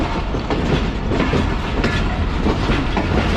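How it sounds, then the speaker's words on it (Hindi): The Pak Business Express train rolls toward a station platform with a loud, steady rumble and a rhythmic clickety-clack of wheels over rail joints, with no voices. "ट्रेन हमारी प्लेटफॉर्म नंबर 3 की तरफ बढ़ते हुए"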